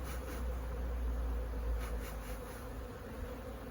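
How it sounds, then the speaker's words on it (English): Honey bees buzzing inside a hungry winter hive opened for emergency feeding, a steady dense drone close to the ear, continuous and moderately loud with no talk. "Look at the bees, holy smokes."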